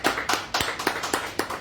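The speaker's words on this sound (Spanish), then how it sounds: "Dale un aplauso al Señor." Scattered, uneven hand claps from a church congregation at a worship service, a handful of sharp distinct claps spaced through a short moment, moderately loud with no steady rhythm.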